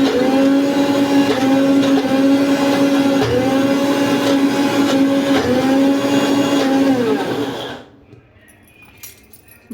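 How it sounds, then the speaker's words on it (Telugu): A mixer grinder blends a coarse carrot chutney with green chillies and a splash of water, a loud, steady whirring drone with rhythmic surges that cuts off abruptly near the end. "మిక్సీ పట్టించాలి."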